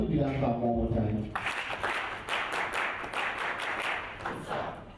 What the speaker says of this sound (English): Can we do that clap one more time?